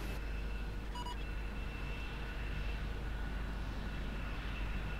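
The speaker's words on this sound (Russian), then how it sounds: "Самолет летит." A fixed-wing aircraft flies overhead in the MechWarrior: Living Legends game, a steady low engine drone holding level throughout with a faint high tone at the start, no voices.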